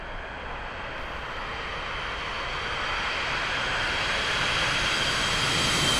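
Jet engines of a simulated Boeing 727 in X-Plane 11 produce a loud, steady broadband roar that builds slightly over several seconds, with no voices over it.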